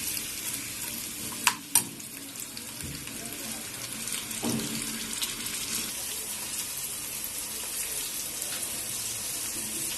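Onions frying in melted ghee in a pan for bessara, a steady sizzle with two sharp clinks near the start and soft stirring after, with a little talk.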